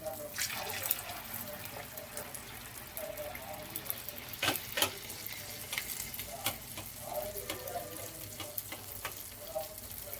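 Corn vadas (garelu) deep frying in oil in a pot, a continuous bubbling sizzle with scattered crackles and pops, fairly close but soft, with no talk.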